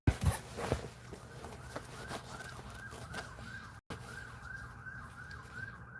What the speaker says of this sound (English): the sirens go off. So the sirens are for us.